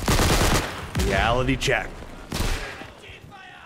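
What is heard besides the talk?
gunfire in Day of Infamy video game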